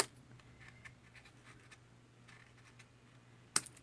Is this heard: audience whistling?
no